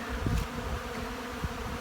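A dense swarm of bees buzzes loudly around a beehive, a continuous close insect drone with a few louder passes sweeping near.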